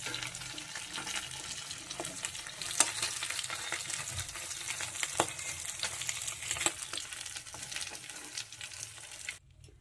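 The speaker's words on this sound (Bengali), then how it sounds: "তো চলো, মাছগুলোকে এবার ভেজে তুলে নিই।" Tangra fish frying in hot oil in a kadai: continuous crackling sizzle with irregular pops and occasional stirring clatter, close and fairly quiet, cutting off just before the end, no talk.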